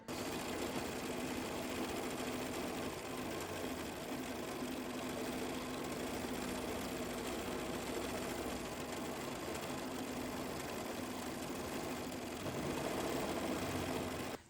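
A sewing machine stitches a single fabric layer onto a quilted hedgehog block, running steadily at an even motor hum with a rapid needle rhythm, with a brief surge near the end.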